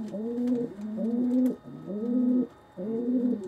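Domestic pigeons in a chicken coop coo in a low, steady rhythm, with four warbling phrases separated by short pauses, close and clear.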